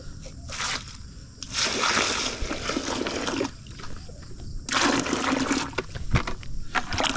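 Water is poured in splashing bursts on a small farm, likely into a feeding container for animals, coming in three separate gushes with quieter gaps between them.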